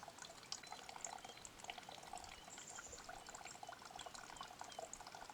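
Water pours steadily into a container at a backcountry campsite in Algonquin park, a continuous close trickle and splash filling the vessel for several seconds with no talking.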